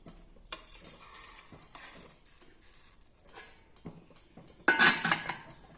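Metal idli steamer plates clink and clatter a few times, ending in a louder cluster of clanks as they settle into an idli pot, with a faint bubbling hiss of boiling water underneath.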